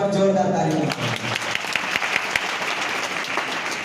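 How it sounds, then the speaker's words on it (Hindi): Loud, dense clapping from a large crowd gathered at a motivational event, starting over the tail of a spoken voice and then carrying on steadily on its own. "बक्सर वालों के लिए एक बार जोरदार ताली होनी चाहिए।"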